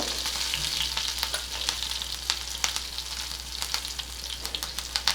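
Green chillies and asafoetida sizzle steadily in hot tempering oil for dhokla, a constant close frying hiss broken by sharp pops and a few stirring clicks, no voices.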